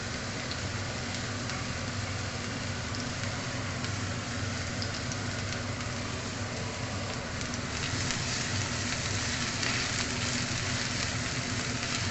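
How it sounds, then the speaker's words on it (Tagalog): Onions and garlic fry in a pan for broccoli with chicken, giving a steady, even sizzle and crackle that continues without pause and with no talking. "Fried onions and garlic."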